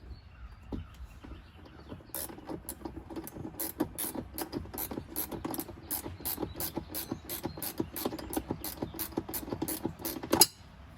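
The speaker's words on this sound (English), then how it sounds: "This is a ratcheting wrench on the positive terminal." A ratcheting wrench turns a 10 mm nut on the positive battery terminal stud of a 2023 Can-Am Commander, giving a long run of quick, even, close mechanical clicks that ends in a sharper clack.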